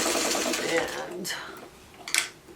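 Sewing machine stitching 2.5-inch quilt pieces for a coffee mug quilt block, a steady whirring run that stops partway, then a brief clatter near the end, with a voice speaking over it.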